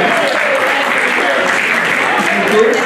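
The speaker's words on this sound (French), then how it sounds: "Applaudissez les deux équipes, s'il vous plaît." An audience at a children's live challenge match in Paris applauds the two teams, sustained loud clapping throughout with voices mixed in.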